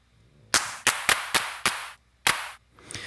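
A clap sample triggered in Max4Live, six sharp, dry electronic claps in an uneven pattern, each with a short decaying tail, loud and isolated against near silence.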